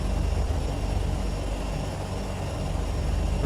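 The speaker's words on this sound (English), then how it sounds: "Right, gingerly taxiing down here." Turbine Duke V2 aircraft taxiing slowly in a flight simulator game, a steady turbine and propeller drone with a low rumble holding constant and no talk.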